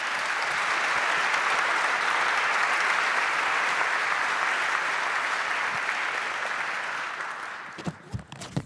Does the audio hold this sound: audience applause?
yes